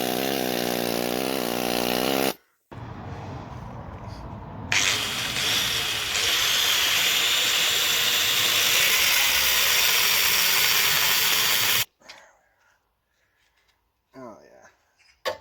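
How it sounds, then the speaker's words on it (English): A pneumatic needle gun chatters loudly and continuously against the rusty steel body of a Mitsubishi L200 truck, a harsh buzzing roar running for about nine seconds between short pauses and brief talk. "needle gun is one noisy sort of a thing"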